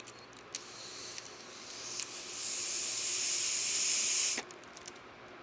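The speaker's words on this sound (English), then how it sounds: "I'm using a old-fashioned ballpoint pen as my blower." Air puffed through an old-fashioned ballpoint pen used as a blower: faint hissy breaths with small clicks, then a longer steady airy hiss of about two seconds that cuts off abruptly, all quiet and near.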